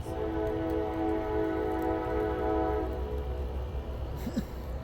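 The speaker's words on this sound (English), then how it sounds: "Yes, Michael, it's a train." A train rumbles past with a sustained horn blaring over the low rolling noise of wheels on track, fairly near.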